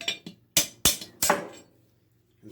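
Four sharp metallic hammer taps ring out at close range, striking a long tool driven down into a Volvo Penta V8 bell housing to knock out its bearing, followed by a brief quiet.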